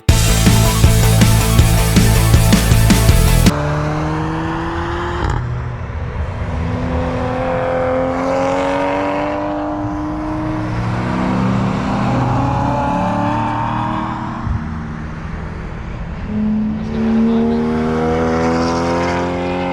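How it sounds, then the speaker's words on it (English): Race cars on a track: a loud, close engine roar opens, then engines rev and whine as they rise and fall in pitch, cars passing one after another with no talk. "Cool race cars"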